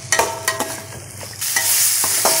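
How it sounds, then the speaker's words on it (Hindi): Boiled potatoes being stirred and fried with spices in a pan for a no-onion, no-garlic sabji, with scraping stir strokes over a steady close sizzle that grows louder midway. "आलू को 1 मिनट तक हम मसालों के साथ फ्राई करेंगे।"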